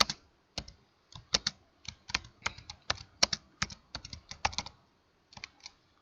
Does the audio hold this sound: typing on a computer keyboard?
yes